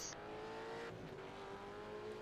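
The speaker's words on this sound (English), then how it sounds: "We've got the safety car coming onto the track." A safety car enters the track at an East Coast V8 Series race, its engine droning steadily with a slowly rising pitch, loud and close over constant circuit noise.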